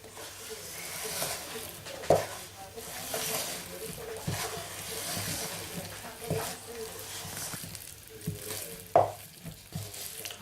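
Raisins folded into dairy-free chocolate cookie dough give a soft, continuous sticky stirring and squelching, with a few sharper clicks of the utensil against the bowl, moderately close and steady throughout.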